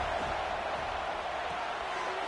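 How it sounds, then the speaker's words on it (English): A football video game's stadium crowd roaring at full throat, a steady wall of cheering and yelling that holds at an even level throughout, distant and diffuse rather than close. "This crowd full throat, splitting the eardrums and letting him know it's going to be a long day"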